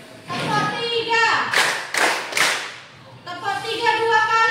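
A class of schoolchildren claps in a three-beat pattern on a teacher's call, three sharp broadband claps in quick succession, with the teacher's voice before and after.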